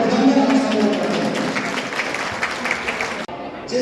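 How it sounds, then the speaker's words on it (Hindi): Applause from a village audience welcoming a family at a guest-house dedication, a loud continuous patter of clapping that fades slightly near the end, with voices faintly mixed in. "तालियों की गड़गड़ाहट के साथ बहुत परिवार का स्वागत और अभिनंदन आप सब लोग करें।"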